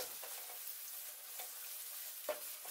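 Ginger garlic paste frying with browned onions in a pan for egg biryani, giving a soft steady sizzle with a few faint stirring scrapes, no voices.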